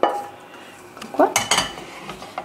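Pasta with tuna sauce stirred in a bowl, giving a few short scrapes and clinks of a utensil against the dish, close and fairly quiet.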